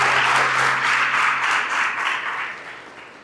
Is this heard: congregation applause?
yes